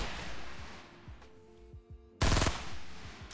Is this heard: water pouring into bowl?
no